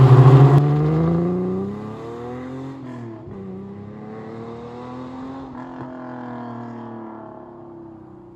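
A 1961 MGA Coupe classic car that has not run under its own power for 48 years, its engine idling and revving, with a rising and falling note that settles into a steady drone, close and alone.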